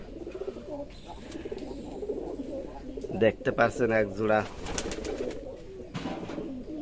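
Domestic deshi pigeons coo in a farm loft lined with many nesting boxes. Soft repeated coos sit beneath someone speaking throughout, with a louder burst of calls midway.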